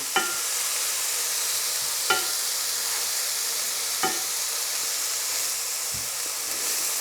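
Garlic and ginger stirred and sizzling in hot oil for a home-style chicken curry, a steady broadband fry with a few sharp scraping stir strokes spaced about two seconds apart, close and alone.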